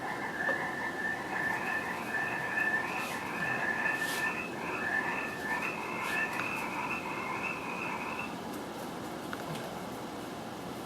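Frogs calling beside a swamp in a steady chorus, with a sustained trilling croak running through most of the stretch over constant outdoor background noise, no talking.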